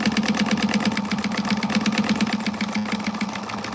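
A sewing machine stitches a back stitch while basting fabric at an eighth-inch seam, its steady rapid mechanical whir running loud and close without a pause.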